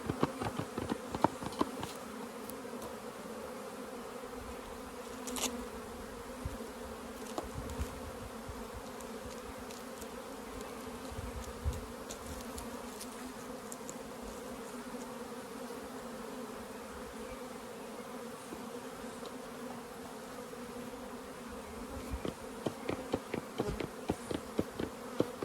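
Dense, continuous buzzing of a large swarm of honeybees around an opened hive during a split, close by at the beekeeper's feet, steady throughout with occasional louder passes of individual bees.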